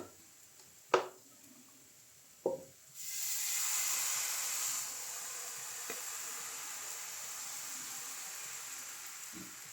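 Onion crepe batter hits hot oil in a frying pan and sizzles with a steady hiss that flares up strongly and then settles, after a couple of sharp clinks of utensils against the pan.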